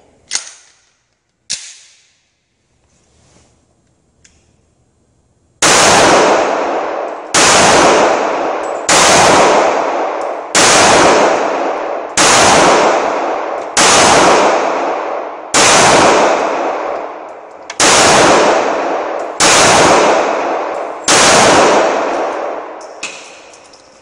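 A Taurus PT111 pistol fires a last magazine: two early shots, a pause with faint handling, then a steady run of about eleven loud, close gunshots, each booming and decaying before the next.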